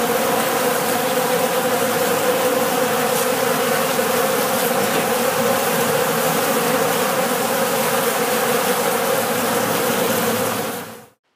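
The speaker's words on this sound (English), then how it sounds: "Just listen to them buzz." Honey bees on a bee farm buzz in a dense, loud, continuous drone that holds steady for about ten seconds, then cuts off abruptly near the end, with no talk.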